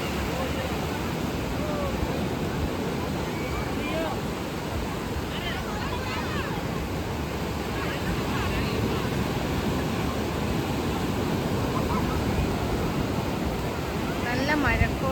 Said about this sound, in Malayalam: ഇതാണ് പാലോലം ബീച്ച്